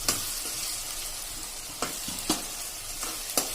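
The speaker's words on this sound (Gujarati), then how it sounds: "2 મિનિટ થઈ ગઈ છે અને જો આપણા કાંદા પણ સરસ સંતળાઈ ગયા છે" Onions sautéing in a pressure cooker for pav bhaji, a steady sizzle broken by several soft scraping stirs of a spoon, close and fairly loud, with no talking.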